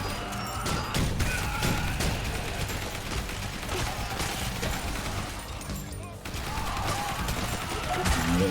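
Rapid, dense assault rifle fire rattles continuously through a Horde Survivor zombie-shooting game, with sharp bursts, impacts and crashing effects piling up, briefly dropping out before resuming at full intensity.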